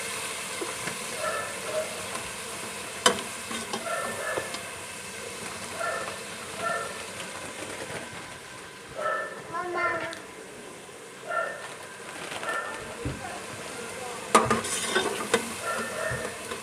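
A blended onion and tomato paste fries in a pan for aloo matar curry, giving a soft, steady sizzle with occasional scraping stirs and light clinks, while someone talks over it.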